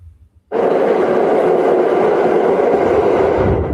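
A subway train roars steadily and loudly through the Lexington Avenue and East 63rd Street station in New York, starting abruptly after a brief quiet moment and holding a dense rumble throughout.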